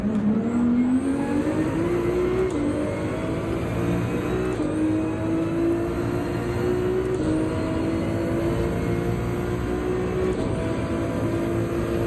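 Race car engines in the video game Gran Turismo 7, at Deep Forest Raceway in a Manufacturers Cup practice session, drone steadily and loudly throughout, the pitch climbing slowly with short dips at gear shifts.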